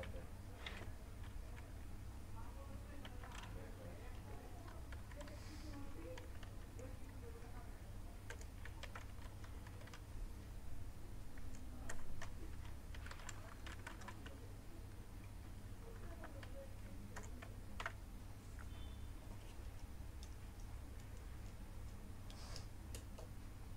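Code being typed on a computer keyboard, soft scattered key clicks and taps at low level over a constant hum, with no speech.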